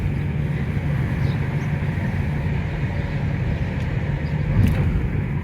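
Car driving through the villages of Gozo, a steady low road and engine rumble from inside the vehicle, constant in level throughout with a slight swell near the end, and no talk.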